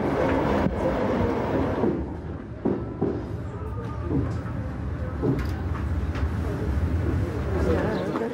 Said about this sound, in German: Dann steht der Zug auch schon.